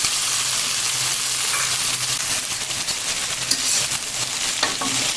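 Ginger frying in a pan with a little water just added, giving a steady loud sizzle with stirring scrapes and occasional clinks, no talking.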